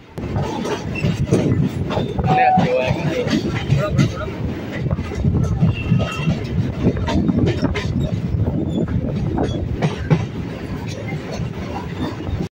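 A local train bound for Bangaon Junction rumbles steadily along the tracks near Bamangachhi with a continuous clattering roar, heard from inside an uncrowded carriage, with faint voices underneath.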